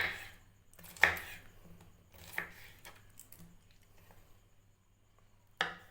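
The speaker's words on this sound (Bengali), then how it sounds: "এটাকে আমি ছোট ছোট করে কেটে নেব।" A knife chops pineapple into small pieces on a board, a few sharp, separate cuts spaced seconds apart, close and clear against a quiet room, with no talking.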